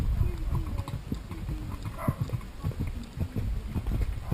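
A ridden horse's hooves clip-clop in a steady, close rhythm at a walk or light jog, with people talking intermittently over the footfalls.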